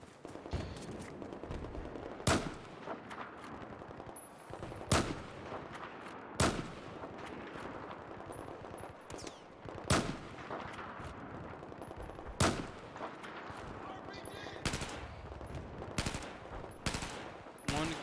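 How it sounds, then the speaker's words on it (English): Gunfire in the Battlefield 4 campaign: steady bursts of rapid weapon fire with sharp, loud shots cracking out every couple of seconds over a dense layer of distant shooting. "Can't even see where they're shooting at."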